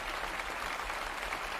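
Sustained applause from a concert hall audience after a performance of Mendelssohn's Violin Concerto in E minor, Op. 64, a dense, steady wash of clapping throughout with no voices.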